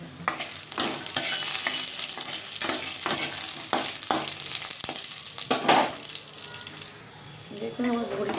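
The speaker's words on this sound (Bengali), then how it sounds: "বড়িটাকে আমি ভেজে নেব" Lentil dumplings (bori) fry in a pan for a Bengali mixed greens dish with susni and kalmi leaves, a close, steady sizzle broken by repeated scraping stir strokes and clinks, with some speech in between.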